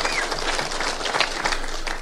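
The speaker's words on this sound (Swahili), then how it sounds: "Tumpigie makofi huyu jamaa." An audience at the Kenya Kwanza retreat in Naivasha claps for Kimani Ichung'wah as the new Majority Leader, a dense, steady crackle of many hands that fills the room without pause.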